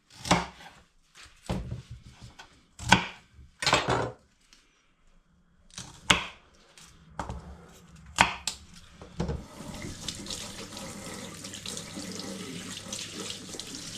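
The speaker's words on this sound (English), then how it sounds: "So I've got myself 5 nice big sticks of rhubarb to chop down and add into the mix." Rhubarb sticks chopped with a knife on a board, a series of sharp close thuds in uneven bursts. Running tap water takes over near the end as a steady hiss.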